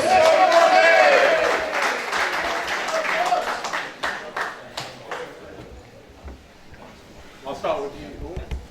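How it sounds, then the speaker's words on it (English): A small press-conference crowd applauds boxing challenger Bobby Collard, a burst of clapping with whistles and voices that thins into isolated claps and then talk. "Big round of applause, please."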